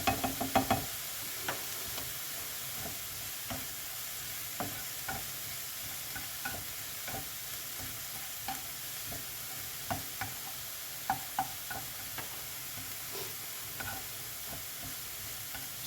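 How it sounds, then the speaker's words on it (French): Onions frying in a pan for beef with onions, a steady close sizzle with light scraping and stirring taps spread throughout, no one talking. "J'adore sentir les oignons qui cuisent,"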